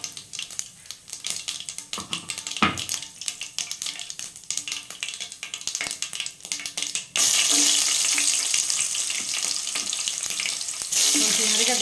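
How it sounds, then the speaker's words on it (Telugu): Mustard, cumin and fenugreek seeds go into hot oil for a Nellore fish curry: faint kitchen clatter first, then a sudden loud, steady, close sizzle that continues to the end. "ఆవాలు, జీలకర్ర వేసేస్తున్నాను"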